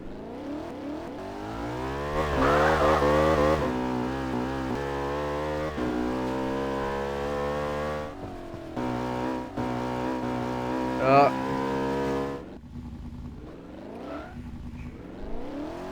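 A Porsche 911 lapping a course in Garry's Mod, its engine droning and revving with rising and falling pitch sweeps as it accelerates and shifts, loud and continuous throughout, easing off near the end.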